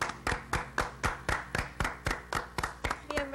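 Rhythmic hand clapping from a TV studio audience in a steady beat, about three claps per second, fairly close and moderately loud, clapping in unison.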